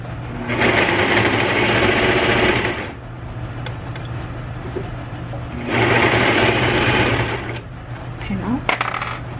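A sewing machine stitching embroidery runs loud and close in two steady bursts of rapid whirring, each a few seconds long, with quieter handling noises in the pauses between them.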